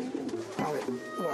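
Homing pigeons coo softly at close range, a short throaty murmur of low burbling calls lasting about a second and a half, with a faint voice underneath.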